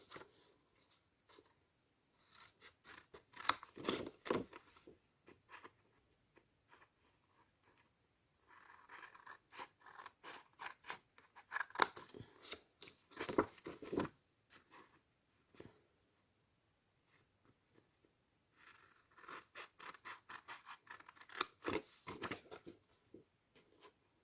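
Scissors snip through material on both sides while making a steampunk mail organizer, a series of close, crisp cutting bursts separated by short quiet pauses.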